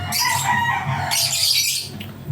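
A hen of a blue fisher fowl breed clucks steadily and close, with bird calls carrying loudly throughout and no talking.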